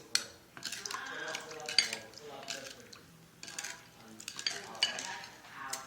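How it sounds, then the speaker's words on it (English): A spoon stirs rice-flour batter for Lao-style bánh cuốn in a bowl, giving soft, irregular scraping and light clinking in short bursts, fairly close and quiet. "Stir it together."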